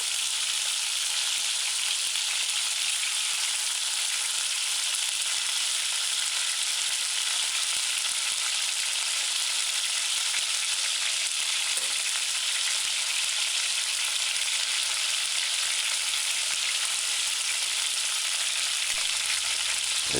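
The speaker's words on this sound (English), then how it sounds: "And allow it to fry 3 to 4 minutes on one side." Chicken pieces frying undisturbed in a pan, a steady, even sizzle that runs unbroken and fairly close throughout with no voices.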